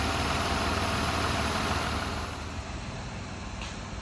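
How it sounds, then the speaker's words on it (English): A 2007 Ford Escape XLT in very good condition idles smoothly with a steady, even engine hum and no odd knocks, holding constant and easing slightly softer toward the end. "there's no odd noises or vibrations coming from the engine. Runs nice and smooth"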